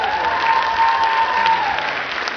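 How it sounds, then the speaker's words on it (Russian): An audience in a concert hall applauds at a modern dance ensemble's concert, even sustained clapping at moderate distance with a faint tone running beneath it. "Ваши аплодисменты."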